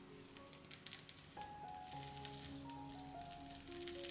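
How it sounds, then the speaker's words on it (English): Butter melting in a heated pan makes a faint, soft sizzle with light crackling pops, heard alone against quiet background tones. "Let's heat up the pan and put the butter in the pan."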